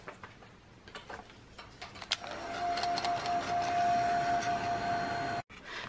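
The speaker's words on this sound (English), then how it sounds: "So I'm going to take my heat tool and" A heat tool switches on partway through and blows a steady, loud whirring hum with a faint whine while drying a freshly painted art journal page, running continuously before cutting out near the end.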